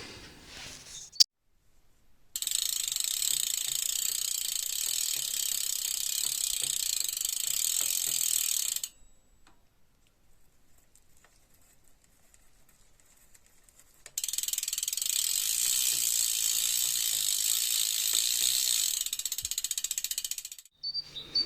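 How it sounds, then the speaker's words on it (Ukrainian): Bicycle chain and gears clicking on a 44-tooth chainring in 11th gear of a Merida Silex, a rapid steady ratcheting tick in two long runs separated by a quiet pause, close and fairly faint. "вам покажу відео Сашка на його оригінальній зірочці 44 зуба, яка натяжка на 11 передачі"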